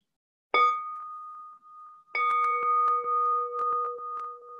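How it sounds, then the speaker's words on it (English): A meditation bell is struck once, ringing out and decaying, then struck again and left to sustain with a long, clear, lingering tone punctuated by small metallic touches. "And now I invite the bell once again"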